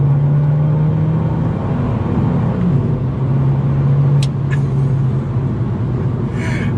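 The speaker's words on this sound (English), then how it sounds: "You just want to keep making these silly loud noises from the Akrapovic exhaust" Abarth 595 Esseesse with an Akrapovic exhaust, a steady loud engine drone from inside the car as it drives, the pitch holding and shifting slightly with throttle.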